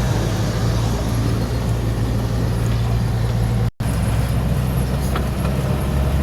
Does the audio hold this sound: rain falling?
no